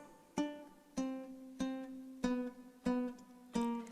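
Plucked low notes from a low-G tuned ukulele, six evenly spaced, each ringing and fading before the next, forming a slow bass line with no voices.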